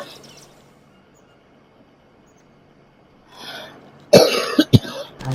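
Coughing from a person in a game setting: a short cluster of loud, harsh coughs near the end, close to the mic, after a long quiet stretch.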